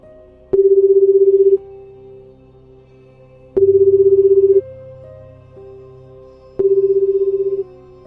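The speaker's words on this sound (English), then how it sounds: "A phone ringing, but not from the front desk." A telephone rings in three evenly spaced electronic bursts, each about a second long, with quiet gaps between them.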